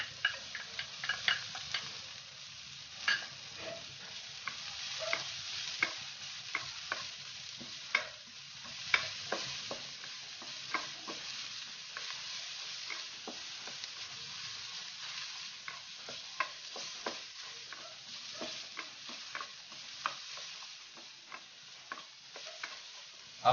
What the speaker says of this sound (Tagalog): igisa yung bawang, sibuyas at luya